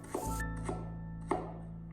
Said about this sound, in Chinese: 1小块去皮的老姜先给下刀，然后再切成厚薄均匀的姜片